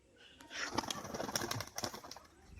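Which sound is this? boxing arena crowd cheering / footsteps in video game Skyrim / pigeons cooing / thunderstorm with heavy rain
pigeons cooing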